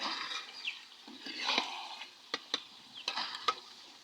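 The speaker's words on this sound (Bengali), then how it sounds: "এখন একটু ভালো করে কষাবো" Chicken curry stir-fried in a pot over a wood-fired stove, with a soft sizzle and scraping spoon strokes that come in short irregular bursts, close and fairly quiet.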